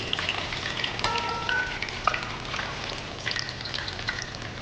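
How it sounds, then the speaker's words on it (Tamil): Eggs frying in a pan for an egg gravy, with a constant crackling sizzle, scattered spitting pops and a few faint tonal sounds in the background, close. "பாருங்கள், முட்டை நல்லா பொரிஞ்சு வருது."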